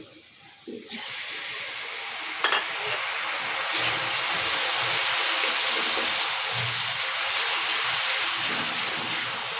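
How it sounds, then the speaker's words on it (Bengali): Salt, coriander, turmeric and chili powder hiss and sizzle in a hot pan after a splash of water goes in for frying bitter gourd. The steam hiss holds steady and close throughout, with a few faint clinks near the start. "মশলা কষানোর জন্য অল্প একটু সামান্য পানি"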